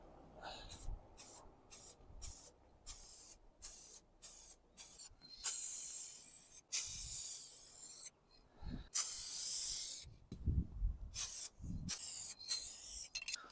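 Bursts of spray from a paint spray gun as a second coat goes onto an MG TF car panel, loud hissing passes starting and stopping repeatedly with short pauses between them.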